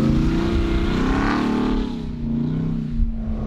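A Ram TRX pickup, a 6,400-pound truck, accelerates hard with a loud, steady engine roar and rising pitch that eases slightly midway, heard close and alone without talk.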